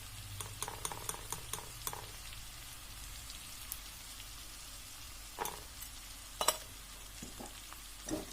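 A bitter gourd curry with turmeric is stirred as it fries, producing a quiet bed of sizzle with scattered light clicks and a few louder utensil knocks spaced through the middle and end.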